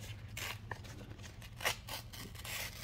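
Sheet of 1500-grit wet-and-dry sandpaper, soaked in water, torn in half by hand, giving a few short rough ripping and crinkling bursts close up over faint background hum.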